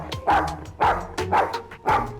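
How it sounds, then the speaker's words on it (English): Small dog in a vet clinic waiting room yapping and barking, four sharp close barks at roughly even intervals, loud and alone. "Sachi starts yapping and barking at every dog that walks into the waiting room."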